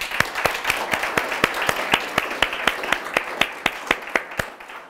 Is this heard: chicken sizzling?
no